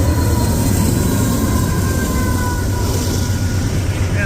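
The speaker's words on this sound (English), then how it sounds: "So westbound CSX, or sorry, Norfolk Southern intermodal," Westbound Norfolk Southern intermodal freight train led by two locomotives rolling past close by, a loud continuous rumble of wheels and cars with faint high tonal squeals riding over it.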